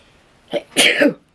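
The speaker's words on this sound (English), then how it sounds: "There's the sneeze." A single loud sneeze up close, a short intake followed by a sharp, forceful burst, alone in a quiet room.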